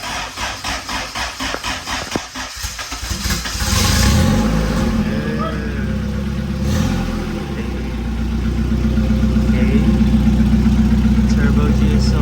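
A Turbo GSR car engine fires up and settles into a loud, rough idle, rumbling steadily close by after an uneven start.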